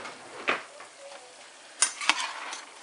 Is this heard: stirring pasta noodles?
yes